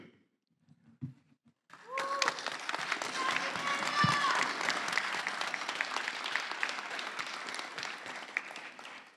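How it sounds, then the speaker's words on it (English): A graduation day crowd breaks into sustained applause for the graduates' families and friends. It starts abruptly after a brief quiet and holds as a dense, loud wash of clapping to the end, with a few voices mixed in. "graduates, if you could please join me as we give a round of applause to your loved ones, your family, your friends"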